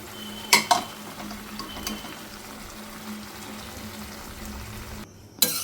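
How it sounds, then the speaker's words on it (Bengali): Chickpeas being stirred into spiced potato masala in a pan for ghugni, giving a steady soft sizzle and simmer with a couple of brief clinks of a utensil near the start. "ছোলাটা আমি এতে দিয়ে দিচ্ছি।"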